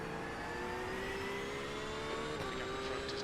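Race car engine in a racing video game set around the Spa 24 Hours, a sustained high whine with a slowly rising pitch and a shift just before the end, steady and alone.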